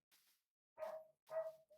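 A dog barks in short, sharp bursts indoors, two loud barks about half a second apart followed by a brief clipped yip, with a faint earlier whine-like sound.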